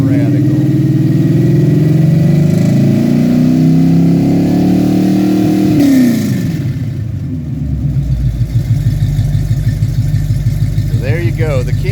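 A car engine with a mild, low-overlap camshaft (about 204/214 duration) idles steadily and close by, then its pitch shifts as the revs drop around midway and it settles into a lumpier, rumbling idle.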